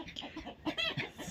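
Clucking from a rooster, a few short nasal calls close by, with soft rustling and no talk over it.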